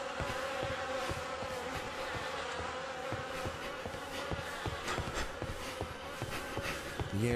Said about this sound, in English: The air is heavy with the stink of rot and the buzzing of those damned insects